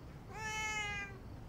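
A stray neighborhood cat gives a single clear, drawn-out meow, close and fairly loud against a quiet background.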